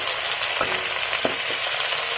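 Fish frying in a pan, a loud, steady close-up hiss of sizzling oil with a few faint clinks and stirs, no voices.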